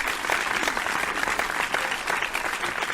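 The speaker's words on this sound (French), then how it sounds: "Je vous invite à applaudir très fort" At a reception, an audience claps for a man coming up on stage, with moderately loud continuous applause and fairly even density.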